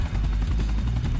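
Buckingham Maverick helicopter, a 1984 model from the video game GTA San Andreas, with a steady loud rotor thump and engine drone running continuously at close range.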